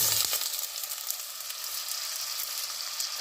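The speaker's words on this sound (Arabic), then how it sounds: "كنخليوهم يتشحروا مع بعضياتهم مزيان." Vegetables, carrots, pumpkin and courgette, sautéing together in a pot for a quick vegetable soup, a steady close sizzle and crackle throughout with no talking.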